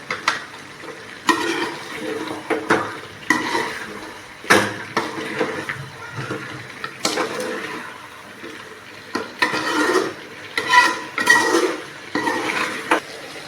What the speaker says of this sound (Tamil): இப்போ வந்து நல்லா மிக்சிங் பண்ணிக்கலாம்